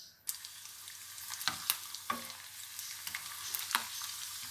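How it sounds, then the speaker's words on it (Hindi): Garlic browning in hot oil for a Pakistani-style black masoor dal, crackling and spitting in a dense sizzle with sharp pops scattered through the few seconds, close and steady, no talking. "अब लहसुन डालते हैं और इसे ब्राउन करेंगे।"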